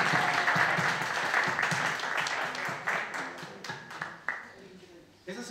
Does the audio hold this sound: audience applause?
yes